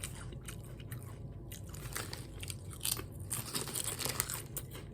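Someone crunches and chews Cheddar & Sour Cream Ruffles potato chips close up, a run of quiet, brittle crunches and moist chewing with no talking.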